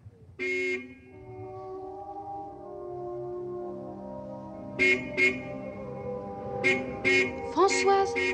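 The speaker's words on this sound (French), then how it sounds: "Le klaxon n'est pas un jeu." A car horn sounds in a 1960s Cherbourg street scene: one short honk, then a run of repeated toots that come quicker and louder near the end, over a sustained musical tone.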